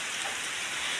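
Heavy rain falls steadily and close by in a tropical backyard, a dense even hiss with no talk over it.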